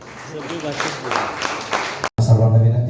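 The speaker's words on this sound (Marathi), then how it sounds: "हरकत नाही, टाळ्या वाजवायला हरकत नाही," Audience applause breaking out at a Marathi literary conference in Mandrem, Goa, with a brief dropout before louder, steadier clapping fills the hall; speech-like murmur sits under the first part.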